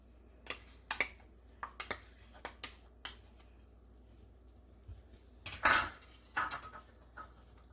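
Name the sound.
stirring broth and cream into stroganoff in a pot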